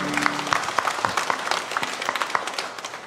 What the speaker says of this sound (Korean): 우리 성삼위 하나님 앞에 영광의 박수 올리겠습니다.